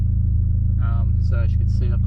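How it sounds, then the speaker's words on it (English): A Mitsubishi Lancer Evo X engine idling with a steady, even low rumble throughout, while someone talks over it close by. "Okay, so we've started the car up."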